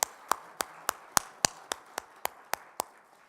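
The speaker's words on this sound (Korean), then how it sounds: "하나님께 영광의 박수 한번 올려드릴까요?" A church congregation at a Korean revival service claps in a slow, steady rhythm, about ten distinct sharp claps spaced evenly, fairly faint and echoing in the room.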